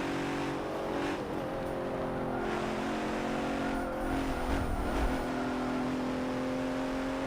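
A Bentley weighing 5,000 pounds racing in Forza Motorsport 7, its engine droning steadily with rising and falling revs and a passing car briefly audible, loud and continuous throughout.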